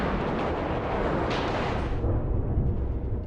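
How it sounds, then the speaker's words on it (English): A large explosion in a space video game, a loud broadband boom and rumble that roars steadily for several seconds before tapering into lower debris noise, with no talk over it. "Explosion."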